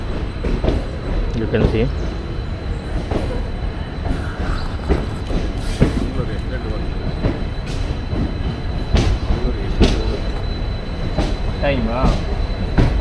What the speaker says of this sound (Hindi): 5 मिनट पूरा करते ही हमारी ट्रेन यहाँ से निकल चुकी है।